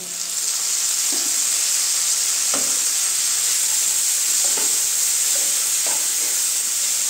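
Onion, garlic, ginger and green chili paste hits hot oil in a pan while cooking a Bengali cauliflower do pyaza, giving a loud, steady close sizzle with a few soft stirring knocks throughout.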